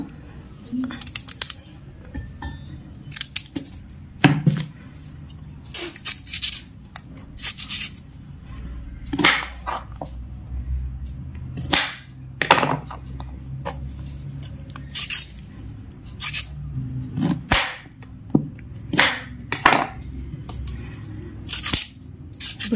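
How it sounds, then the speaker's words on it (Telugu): Small onions are sliced with a kitchen knife for a radish leaves curry, giving crisp, irregular cutting clicks close up, spaced by short pauses, with a low voice now and then. "దానికోసమని ఇప్పుడు ఒక 2 సొద్దంపులు కట్ చేసుకుందామా"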